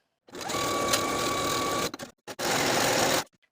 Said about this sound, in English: Sew the side seams and shoulder seams with a 1/2 inch seam allowance and serge your seams to finish